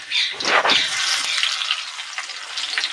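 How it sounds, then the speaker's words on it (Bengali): Chopped garlic and onion hit hot oil with dried chillies in a pan for a chicken curry, setting off a sharp sizzling burst that settles into a steady frying hiss. "এর মধ্যে এবার দিয়ে দেবো রসুন কুচি তারপর দিয়ে দেব পেঁয়াজ কুচি"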